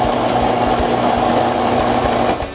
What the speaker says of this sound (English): Good thing to get the processor going is to pulse it a few times before you just click it on.